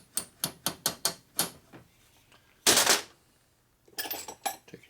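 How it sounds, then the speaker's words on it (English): Tapping a small jet into a Linkert M35 carburetor from an old Harley: six quick metallic taps in a steady rhythm, then a louder clattering clink and a few lighter knocks, close up with no talk. "You tap it in."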